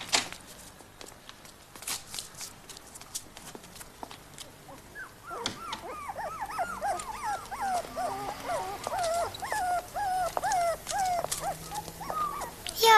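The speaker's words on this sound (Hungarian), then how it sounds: "Jaj, de aranyosak ezek a kis kutyák." Several puppies whimper and yip in high, wavering squeals, starting sparse and thickening into a steady chorus of small cries close by.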